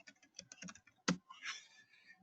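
Keystrokes on a computer keyboard come in an irregular burst of close, fairly quiet clicks, with one sharper tap near the middle followed by a softer rustle.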